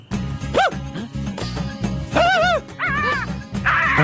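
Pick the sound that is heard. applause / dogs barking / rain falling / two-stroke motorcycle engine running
dogs barking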